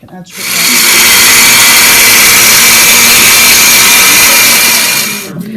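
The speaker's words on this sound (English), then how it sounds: "We are placing the Jameed, the hardened yogurt, into a blender, and we're going to blend it" A blender whirs at full power through hardened yogurt, jameed, a loud, steady motor roar lasting about five seconds before cutting off.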